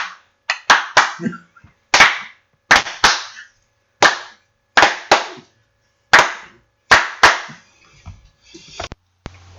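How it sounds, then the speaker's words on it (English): Sharp, reverberant hand claps strike in a rhythmic pattern, often in pairs and triplets with short pauses between, loud and alone, opening a pro wrestling fan podcast. "Put your hands together and clap for Adam and Phil"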